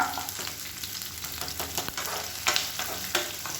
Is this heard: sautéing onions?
yes